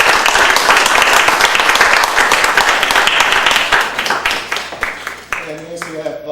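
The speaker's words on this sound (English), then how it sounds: "I'd like to give them a round of applause" Attendees at a town board meeting give a round of applause, loud close clapping that gradually thins out, with a voice starting to speak as it ends.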